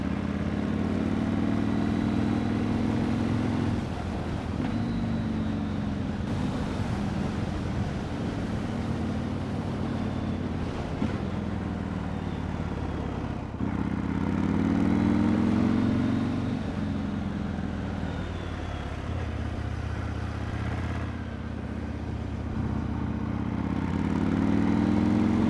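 A Yamaha MT-01 SP motorcycle engine while riding on roads around Hakone, Japan, a steady deep throbbing drone with rising and falling revs as the throttle changes, close and continuous with no talk.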